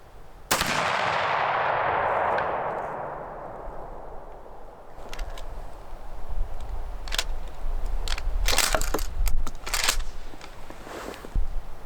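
A single loud shot from an Ithaca Model 37 Deerslayer shotgun at an outdoor range, a sharp crack followed by a long decaying boom, then scattered clicks and handling noises close by.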